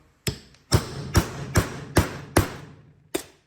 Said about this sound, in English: We're going to get ourselves a Phillips and a hammer